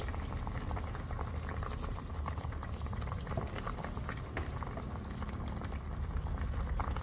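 Pork braising in seasoned liquid with fish sauce and salt for Vietnamese thit kho with eggs and bamboo shoots, bubbling and simmering steadily at close range with a continuous soft burble.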